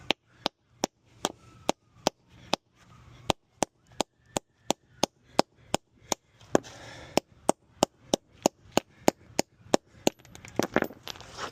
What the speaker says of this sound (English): Then it gets stuck in your socket, so you gotta hammer it off.